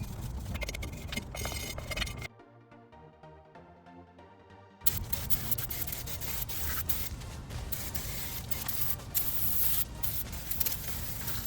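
Brake parts cleaner sprayed onto the rear drum brakes of a 2008-2013 GMC Sierra 1500 pickup, a long close, loud hiss that cuts out for a couple of seconds before a second sustained blast.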